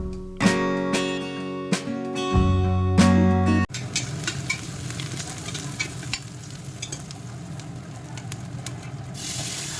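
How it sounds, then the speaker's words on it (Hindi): Chopped onion and ginger-garlic paste hit hot oil in a pan and sizzle loudly, with stirring scrapes; a louder clatter first, then a steady frying crackle continues close up with no talk. "तो सबसे पहले प्याज डालूँगी, और साथ में डालूँगी अदरक लहसुन की पेस्ट।"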